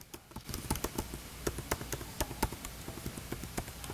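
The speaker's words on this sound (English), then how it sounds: "Look at the sound of the keyboard." Typing on a MacBook Pro 16 laptop keyboard, heard close and fairly soft as a steady, quick patter of light key taps with a few firmer presses, under a faint background hum.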